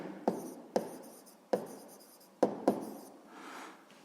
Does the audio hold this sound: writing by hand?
yes